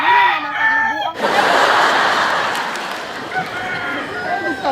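A rooster crows loudly up close, a long ragged cock-a-doodle-doo after a brief opening call, with clucking fowl and a voice faintly underneath.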